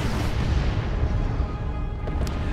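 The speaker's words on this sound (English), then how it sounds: "it looks like we had an incendiary shell down from those artillery spotters" A dense, rumbling roar from an incendiary artillery shell impact in the strategy game Dawn of War II, a continuous heavy low wash of burning and blast noise, close and steady for a couple of seconds.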